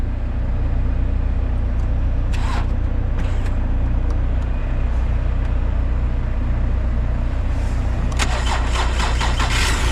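Truck engine idling loudly with a steady low rumble close by, with brief rattling bursts over it near the middle and again toward the end.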